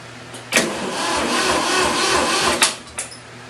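A Ford 2000 tractor engine with a weak battery turns over with a steady mechanical churn, a sharp burst at the start and a couple of sputtering catches near the end, without firing up.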